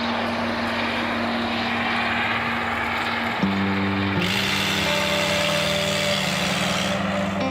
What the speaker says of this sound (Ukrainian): Гвинтокрил Державної служби з надзвичайних ситуацій залишає державну резиденцію.